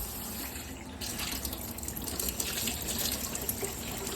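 Steady stream of water runs from a cabin sink faucet with a small rinsing sprayer, a close continuous hiss and splash with no talk over it.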